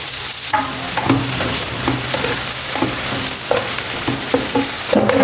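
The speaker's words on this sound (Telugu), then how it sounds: "ఇప్పుడు సన్నగా తరిగి పెట్టుకున్న టమాటాలు వేసేసుకుందాం" Chopped tomatoes tossed into a pan of capsicum for pav bhaji, a close sizzle with repeated scraping stirs of a spatula at an uneven rhythm.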